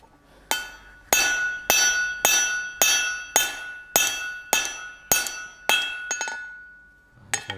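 Hammer blows ring out on a hot chisel being forged thinner on an anvil, about ten sharp metallic strikes in a steady rhythm, each leaving a bright ringing decay, close and loud with no talking.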